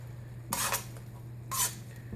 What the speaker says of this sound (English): Give that a little bit of a stir to get that flavor in there.